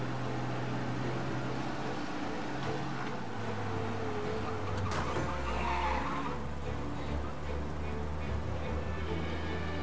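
A car racing fast through a police chase in the Mafia Definitive Edition video game, with a loud engine roar, tire skids and squeals, and speech partly over the driving noise.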